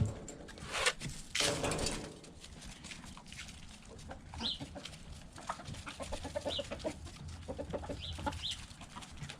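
Backyard chickens just let out of their coop cluck and murmur nearby, with a few brief louder bumps at the start and then scattered soft clucks and calls.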